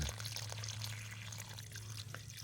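Irrigation water on a drought-stricken farm, steady pouring and dripping close by, with a constant low hum running underneath throughout.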